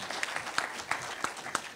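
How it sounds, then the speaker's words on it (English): Scattered clapping from a small panel audience, individual claps distinct and uneven, moderately close and not very loud. "Round of applause, please, for Matt."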